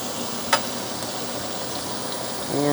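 Butter and extra virgin olive oil sizzle steadily in a pan on an induction burner, a dense, even hiss heard close and alone, with one faint tick near the start.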